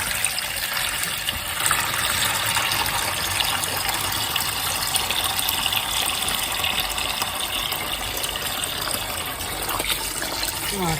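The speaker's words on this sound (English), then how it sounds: "I'm going to change the water." Water gushes and pours steadily into a container, changing the rinse water for a beginners' tie-dye class; a continuous, loud, close splashing flow with no talking.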